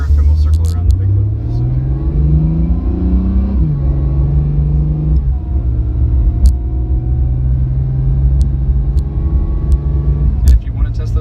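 A 2018 Acura NSX accelerates through its gears on the road, its engine note climbing in pitch, dropping at each shift and climbing again with a deep rumble, while people talk inside the car over it.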